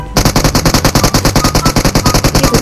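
Rapid automatic gunfire from a mobile shooter game played on an iPhone 8 Plus, a steady fast burst of loud, evenly spaced shots that runs without a break after a brief quiet start.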